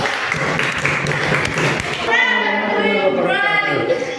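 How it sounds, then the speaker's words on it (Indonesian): Classroom clapping for a student group rattles briefly for about two seconds, then gives way to a voice speaking. "Tepuk tangan untuk kelompok 3"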